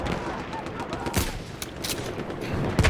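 Gunfire in Battlefield 1 on the Suez map: scattered rifle shots crack through a dense, noisy battle din at moderate volume, with a voice occasionally audible over the fighting.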